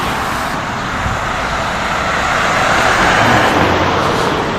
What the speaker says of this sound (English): Lots of traffic right now due to the train.